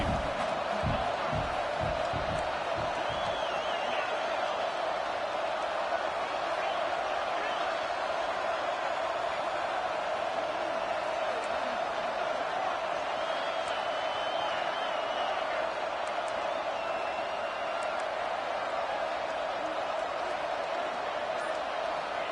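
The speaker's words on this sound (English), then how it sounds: "Home crowd trying to make a difference on 4th down." Home crowd roaring during a college football playoff game on a fourth-down play, a loud, sustained stadium din that stays constant throughout, with a commentator's voice faintly woven in.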